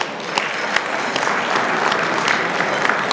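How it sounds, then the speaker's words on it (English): Audience applause at the DuSable Heritage Association 25th anniversary gala in Chicago, honoring Mayor Johnson: steady, dense clapping from a large crowd filling the room, continuous and even throughout with a few sharper individual claps standing out. "Let's give him a round of applause for that."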